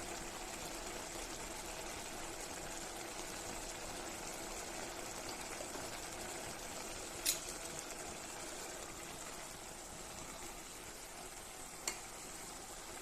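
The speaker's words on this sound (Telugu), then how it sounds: "అది వేసి మొత్తం రైస్కి పట్టేలాగా కలుపుకోవాలి." Rice in a pan sizzles softly as it is stirred after garam masala is added for a tomato rice, a faint steady hiss broken by two brief clinks of a utensil.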